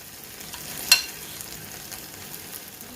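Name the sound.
mash dal bhallas frying in oil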